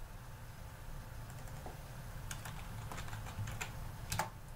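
Keystrokes on a computer keyboard while renaming an item in motion-capture gap-filling software, scattered soft clicks growing into a quick burst near the end over a steady low room hum, close and faint, with no talking.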